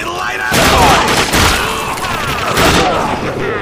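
Heavy video-game gunfire from The Darkness 2, loud continuous bursts of shots with booming impacts close up, rising in two intense surges while voices speak over the shooting.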